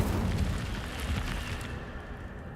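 Casting the Incendio fire spell in Hogwarts Legacy produces a dense, roaring whoosh of flame that holds steady, then gradually fades over a couple of seconds.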